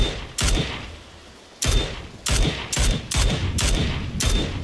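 Six loud, sharp gunshots from a video game firefight, spaced irregularly with short pauses between them and a faint echoing tail after each, no talk over them.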